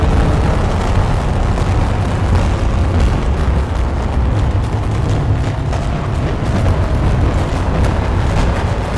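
Granular spray effect from the Celestine iPad app with echo applied, a dense, continuous roaring wash of sound that stays loud and steady throughout, with no voices.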